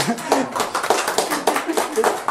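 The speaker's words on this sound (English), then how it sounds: "Why are you clapping?" A small audience at an evening philosophy talk claps in a light, uneven patter of hand claps lasting a couple of seconds, with voices murmuring over it.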